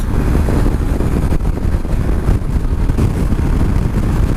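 Loud, steady wind roar buffeting a helmet microphone at speed on a Suzuki V-Strom 250 motorcycle, with a low engine rumble underneath, constant throughout.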